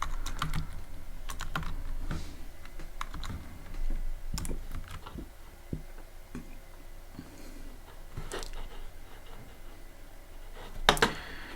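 Python code is typed on a computer keyboard in quick uneven bursts of close, crisp key clicks, with short pauses between runs and a louder clatter near the end, no voice.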